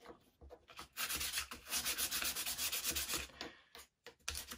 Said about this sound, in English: run the sandpaper on both sides